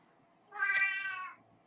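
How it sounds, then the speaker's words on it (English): A hungry cat lets out one clear, drawn-out meow lasting under a second, close and fairly loud against a quiet background. "Cue the cat. Was that your kitty?"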